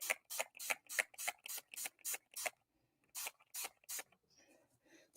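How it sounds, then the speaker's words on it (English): Short hissing bursts from a spray can during a paper-crafting project, about a dozen quick sprays in rhythmic groups with a brief pause midway, close-up and without talking. "so let's spray"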